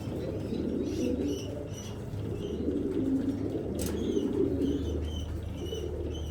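Racing pigeons coo continuously in low, rolling murmurs at a pigeon sale, with a few brief higher chirps over the top.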